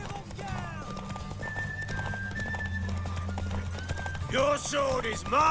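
Rapid hoofbeats of a galloping horse in The Witcher 3 with a whinny near the end, over a steady low game soundtrack drone.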